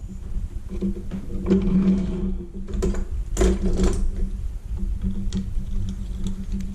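Small screws being backed out of an LCD inverter board, a run of faint mechanical clicks and light ticking scrapes close by, with brief louder handling bursts partway through.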